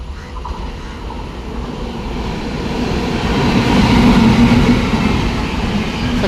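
The Sabari Superfast Express passenger train passing, a broad rumbling roar that swells gradually and stays loud as it goes by.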